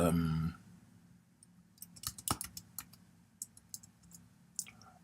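Keystrokes on a computer keyboard while typing a link search into a WordPress editor, a sparse run of light clicks and taps after a brief opening sound, fairly close and quiet.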